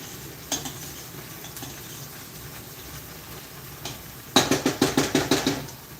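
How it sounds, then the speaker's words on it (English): Garlic and ginger fry in a pan under faint sizzling while a utensil stirs, giving scattered scrapes and then a quick rhythmic run of about eight clinking strokes against the pan, close up. "Make sure you stir that up."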